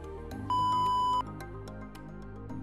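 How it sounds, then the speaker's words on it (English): A single short electronic beep from an R-net wheelchair joystick module, clear and steady, sounds over a low background hum with faint clicks. "push the joystick forwards for 10 seconds until a short beep is heard"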